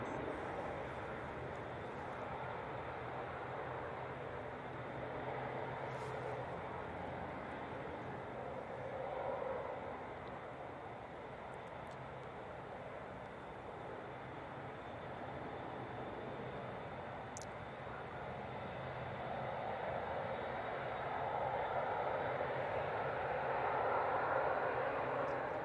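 Steady, distant roar of an Austrian airliner's jet engines as it departs runway 23 right at Manchester Airport, a broad, even rumble that swells slightly toward the end and continues alone throughout.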